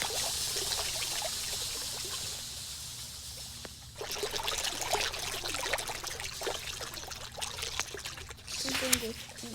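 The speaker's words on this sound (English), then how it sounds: "the only way was to spill the acid into it" Acid is poured into a bathtub with a steady, continuous trickling pour that runs throughout, moderately quiet.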